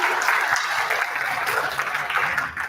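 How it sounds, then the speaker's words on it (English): Dense, steady applause from an audience at a Mother's Day commemoration event, a broad crowd of hands clapping continuously at close range for the whole stretch, with no voices over it. "Can I clap for her?"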